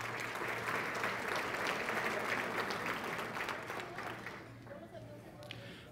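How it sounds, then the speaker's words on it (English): An audience at a congressional district address claps for a city councilman, a sustained round of crowd applause that tapers off toward the end with faint voices underneath. "a round of applause for another one of our West Side leaders, Chris Medina, the District 7 councilman"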